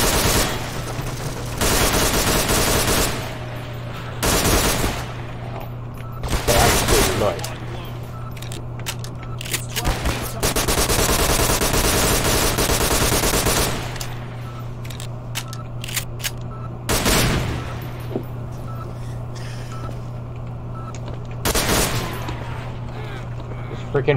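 Rapid bursts of sentry turret machine-gun fire in Garry's Mod, several loud broadband volleys spaced through the clip over a steady game hum, with a person talking in between.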